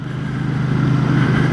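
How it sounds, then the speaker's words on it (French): A Royal Enfield 650 Bear twin-cylinder motorcycle idles steadily through its 2-into-1 exhaust, a close, continuous low rumble with a pulsing beat and no talk over it. "L'échappement qui distille d'ailleurs un bruit tout à fait agréable"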